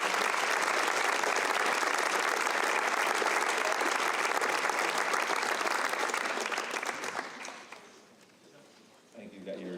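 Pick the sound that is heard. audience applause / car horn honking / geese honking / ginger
audience applause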